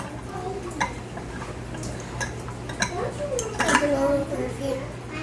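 A plastic hummingbird feeder with two compartments being pulled apart by hand, giving a few light clicks and clatters of plastic over a steady background hum.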